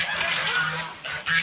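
Geese from a backyard flock honking close by in the morning, a few nasal calls with a brief pause before a final louder honk.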